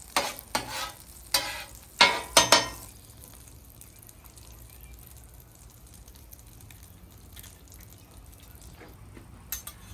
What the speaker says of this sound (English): Same thing, we're working with the over easy egg. Let that butter melt.